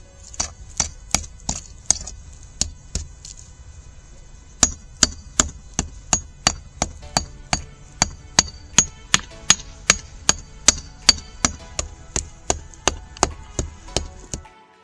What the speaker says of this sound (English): But let's get back to chipping that concrete.